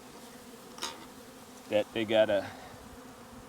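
Frenzied honey bees swarm around a closed-off hive they are trying to rob, their buzzing swelling in a few loud close bursts as someone speaks briefly.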